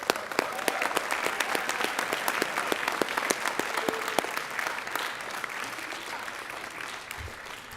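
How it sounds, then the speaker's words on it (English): Applause from an audience at a school board of trustees meeting, a steady wash of many hands clapping with sharp individual claps standing out, fading slightly toward the end. "Let's give him another round of applause."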